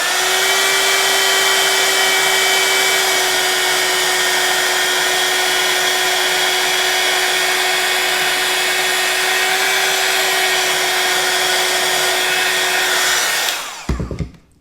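A heat embossing tool blows a loud, steady hot-air whir while melting embossing powder on a stamped card, holding constant for about fourteen seconds before cutting off abruptly.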